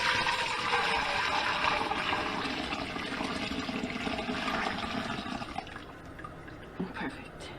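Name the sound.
beef stock being poured through a strainer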